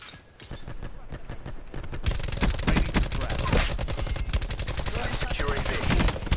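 Rapid automatic gunfire in Call of Duty: Black Ops 4 multiplayer, quieter at first, then a dense, loud, sustained stream of shots close up from about two seconds to the end.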